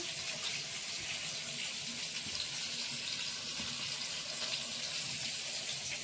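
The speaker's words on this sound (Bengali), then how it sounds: "আলুটা দুবার তিনবার করে ধুয়ে নিয়েছি" Cut potato pieces rinsed under a running kitchen tap, a steady close gush of water into a sink with faint shifting splashes, no talk.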